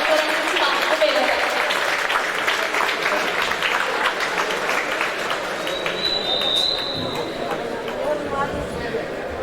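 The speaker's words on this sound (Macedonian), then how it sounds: "го очекуваме само уште вашиот аплауз" Dense, steady clapping from a large audience at a professional folklore festival in Veles, Macedonia, on its final evening, filling the whole stretch at an even level with crowd noise and voices mixed in.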